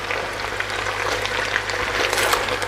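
Potatoes for aloo bhujia fry steadily in a pan, a dense continuous sizzle with faint crackles throughout, close and fairly loud with no talking.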